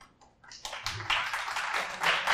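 A live audience breaks into applause at a tech talk in New York, scattered faint claps at first that quickly swell into steady, moderately close clapping.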